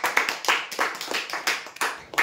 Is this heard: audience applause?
yes